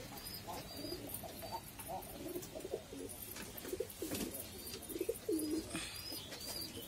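Pigeons coo inside a pigeon loft: soft, low, burbling coos that grow more distinct toward the end, heard fairly faintly against a quiet, hissy background.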